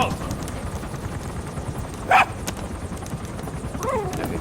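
In Metal Gear Solid V, a dog gives a single short bark partway through, set against a steady low game ambience.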